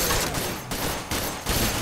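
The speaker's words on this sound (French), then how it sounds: "il tire à travers le sol." Rapid gunfire tears through the floor in the video game Stalker: Misery, dense loud bursts of shots with short gaps between volleys, close and harsh.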